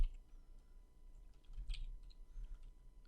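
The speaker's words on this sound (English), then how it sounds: "And let's type the following command." Fingers type a command on a computer keyboard at a command prompt. A quick, close run of soft key clicks lasts about three seconds and carries no speech.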